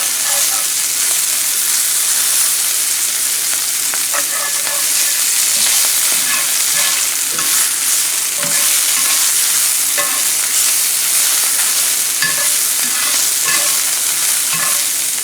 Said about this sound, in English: I'm gonna go ahead and put the meat in there, and we just want to kind of get some color on this meat